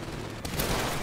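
Gunfire in the video game Titanfall, a dense burst of rapid shots in a continuous loud wash lasting about a second.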